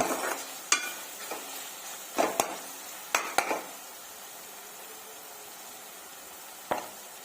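Tomatoes salted and frying in a pan give a low steady sizzle, broken by a few sharp clinks and scrapes of a spoon stirring against the metal, with quiet gaps between.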